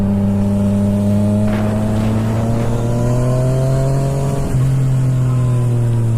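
Motorcycle engine running loud and steady throughout, with a strong low harmonic hum that shifts pitch as revs rise and fall, including a brief dip and rev change near the end; no talking.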